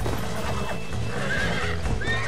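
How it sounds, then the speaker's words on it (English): A horse neighs and its hooves clip-clop in the Red Dead Redemption video game during a lasso roundup, loud and close against steady background game noise. "There's the horses! Get that lasso ready! Rope one!"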